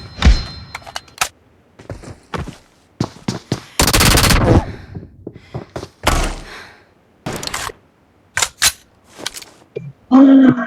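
Video game gunfire in an online match: rapid bursts and single shots, close and loud, in uneven clusters with short gaps, along with some thunks.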